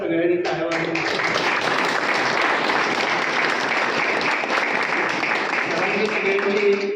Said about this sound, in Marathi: सगळ्यांनी टाळ्या वाजवून